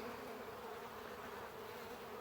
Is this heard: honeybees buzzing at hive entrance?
yes